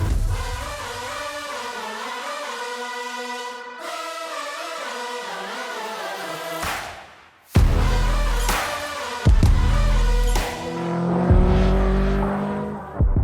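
A 1982 Lancia 037 Rally homologation car, one of 200 built for the World Rally Championship, revs loudly up close: a long rising and falling engine note, then sharp, punchy throttle blips and surging acceleration.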